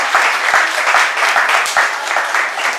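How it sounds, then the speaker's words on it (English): Audience at a live sushi-making demonstration bursts into close, loud, steady applause, many hands clapping densely without pause for a few seconds. "If we get a round of applause."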